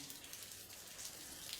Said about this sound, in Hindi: जब से हम यहाँ आए हुए हैं बारिश हो रही है